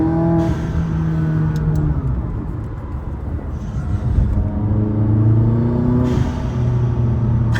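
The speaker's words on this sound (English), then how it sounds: "the blow-off valves sound unreal" A McLaren sports car engine revs hard and close, its pitch rising and falling, with short hissing bursts from the blow-off valves between throttle blips.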